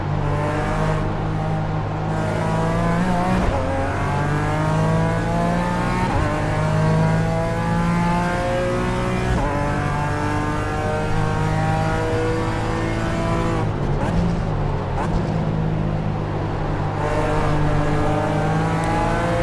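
BMW race cars in the iRacing video game scream through Redgate corner, a loud sustained engine whine climbing through the gears with brief dips at each shift, running continuously and without talk.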